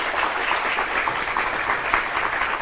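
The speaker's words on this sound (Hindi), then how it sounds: "जोरदार तालियों से एक बार स्वागत करते हैं।" A studio audience breaks into loud, sustained applause welcoming guest Harishankar Jain on a Hindi TV debate show, a dense continuous wash of clapping throughout.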